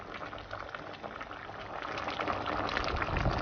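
A pot of yam porridge with fish bubbles at a steady boil, a continuous close-up simmering and popping that grows a little louder toward the end, with no talking.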